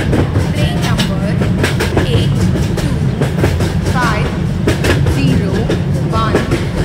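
A Tejas Superfast Express arrives in Indian Train Simulator with a loud steady rumble and rhythmic clickety-clack of wheels over rail joints, and a station announcement voice speaks over it.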